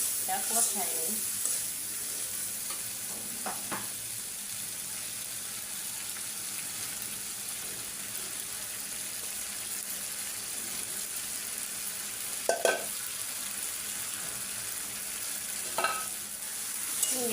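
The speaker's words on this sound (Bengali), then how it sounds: "মাছগুলো একেবারে কষানো হয়ে গেছে" Prawns sautéing in a pan for a prawn and papaya curry give a steady, close sizzle throughout, broken by a few scattered scrapes and knocks as they are stirred.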